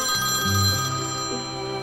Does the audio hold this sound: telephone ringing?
yes